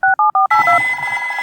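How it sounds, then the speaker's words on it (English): A cartoon telephone is dialed with three quick, clear keypad tones, followed by a steady ringing tone as the call connects, with no talking. "Delphine's phone number is on the letter, so Peppa calls her."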